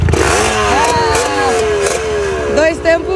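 Two-stroke motocross motorcycle revving at a motocross event, a near, buzzing, rising and falling engine whine with sharp revs, heard alongside people talking.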